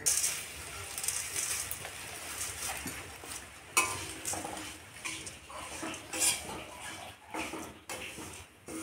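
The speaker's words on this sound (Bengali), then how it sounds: "জিরেটা ভেজে নিই।" Cumin seeds frying in a pan in a home kitchen, a faint crackling sizzle mixed with clinks of a spoon and utensils against the pan, close but quiet, with no talking.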